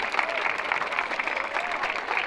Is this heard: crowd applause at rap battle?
yes